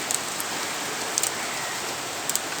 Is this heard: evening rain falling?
yes